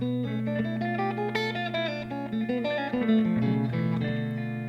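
A guitar plays a flowing D melodic minor melody over a sustained chord, notes moving steadily up and down, clear and close.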